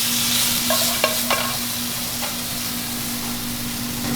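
Garlic tomato paste sizzles and fries in an oiled pan for a prawn curry, with a steady hiss throughout and a few sharp clinks of a utensil stirring against the pan.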